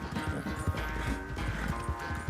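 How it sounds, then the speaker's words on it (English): Galloping horse hooves in Red Dead Redemption 2 beat out a steady, fast rhythm of dull thuds in the foreground, heard over a constant low background bed, with no talking. "I definitely wouldn't ride a horse this hard."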